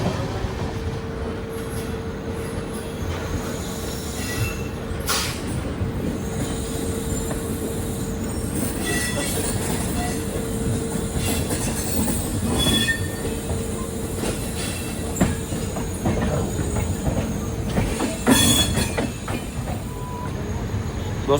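The Bandra–Jhansi superfast special rolls into Vadodara station, its wheels squealing with a steady metallic whine over continuous rumbling and clatter, close and sustained, with occasional sharper screeches and faint voices.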